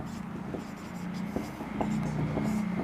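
Marker or chalk strokes scratch across a classroom board in short, separate bursts, fairly close, with a low hum beneath and a teacher's voice murmuring at times.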